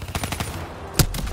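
Rapid machine-gun bursts and gunshots ring out in a military shooter game during a firefight, loud close bursts with a sharp peak near the end.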